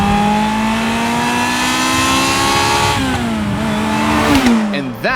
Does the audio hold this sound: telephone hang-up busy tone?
no